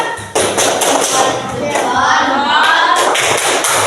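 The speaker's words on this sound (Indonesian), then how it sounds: "beri tepuk tangan kelompok satu" Students in a classroom applaud a presenting group with a sustained patter of hand claps and taps that begins abruptly and continues at steady, close loudness, with faint voices mixed in partway through.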